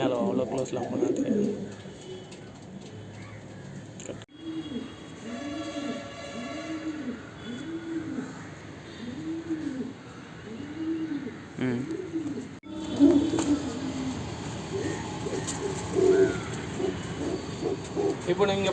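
Racing homing pigeons coo in a steady run of soft, rolling calls up close, with a voice talking intermittently over the birds.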